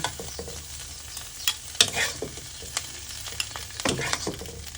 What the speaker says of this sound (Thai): ผัดให้แห้งแบบนี้เลย